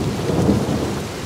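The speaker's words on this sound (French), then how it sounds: "La pluie tombait à torrents" Heavy rain pours in a thunderstorm, a dense, steady roar with a low rumble of thunder underneath, fairly loud and brief.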